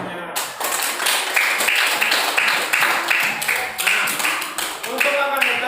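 A primary school class claps hands together in a classroom, a loud sustained patter of many hands with rhythmic surges throughout, a few voices mixed in.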